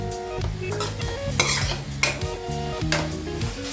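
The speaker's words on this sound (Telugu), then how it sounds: "పుదీనా కొత్తిమీర మిక్స్ చేయాలి బాగా కలిపి" Mutton biryani with mint and coriander is stirred in an electric rice cooker, a ladle scraping and clinking against the pot in irregular strokes over a soft sizzle, close and busy.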